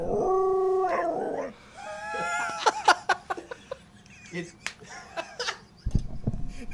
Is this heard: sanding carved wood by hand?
no